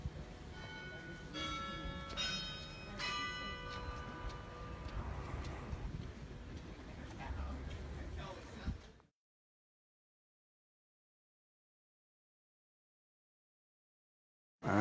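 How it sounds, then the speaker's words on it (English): Bells ring with bright, sustained tones over a busy background at Hearst Castle in San Simeon, California, for about nine seconds, then everything cuts to silence. "Oh, the bells."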